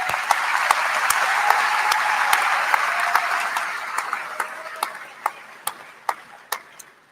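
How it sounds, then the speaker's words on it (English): Big round of applause from a commencement audience for graduating students receiving degrees, dense and loud at first, then thinning into scattered individual claps that slow and fade. "another big round of applause for our students in the audience receiving their degrees today."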